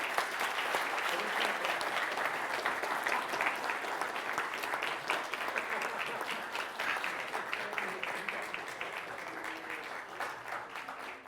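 A large audience at a university philosophy panel discussion gives a sustained round of applause: dense, steady clapping that stays loud and even for the whole stretch, tapering only slightly toward the end.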